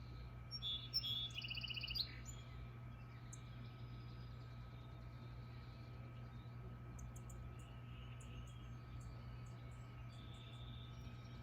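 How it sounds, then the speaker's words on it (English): Birds chirp and tweet at a distance over a steady hum of background noise, with a brief burst of louder calls near the start. "The birds singing their songs to each other."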